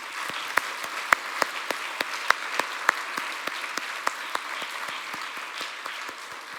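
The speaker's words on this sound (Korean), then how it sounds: "우리 하나님 앞에 박수 한번 할까요?" A church congregation in a Korean service claps in a steady rhythm. Sharp, evenly spaced claps sound over a soft bed of scattered clapping and carry on throughout.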